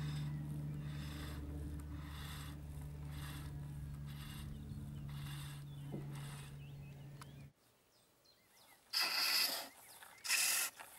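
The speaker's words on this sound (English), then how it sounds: "Using the roughing out gouge now to clean up the core of the rattle." A roughing out gouge cuts an applewood baby's rattle spinning on a wood lathe, a steady humming drone with pulsing scraping strokes that stops abruptly, followed by quiet and two short harsh bursts.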